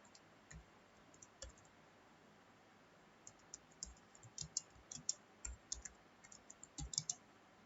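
Keystrokes on a computer keyboard while typing an HTML program into Notepad, quiet isolated clicks at first, then a quicker irregular run of taps in the second half, close and alone with no talk.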